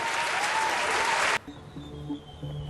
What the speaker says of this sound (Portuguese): Uma salva de palmas à polícia.